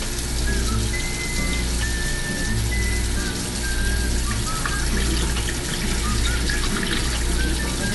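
Water runs and sloshes steadily as rice is rinsed in a bowl for onigiri, a loud continuous splashing rush with no talk over it.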